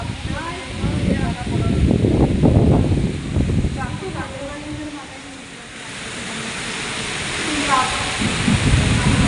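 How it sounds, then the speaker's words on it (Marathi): Heavy monsoon downpour with a thunderstorm during a trip from Mumbai toward Akkalkot and Ganagapur: a dense, steady roar of rain with low rumbling thunder swelling and fading, while people talk throughout. "खूप भयंकर असा मुसळधार पाऊस आणि तुफान चालू आहे"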